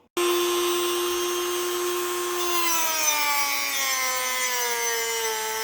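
Metal being worked back and forth with a polishing pad toward a mirror shine: a loud, steady machine-like whine with strong sustained tones that drift slightly lower midway, running continuously with no talking.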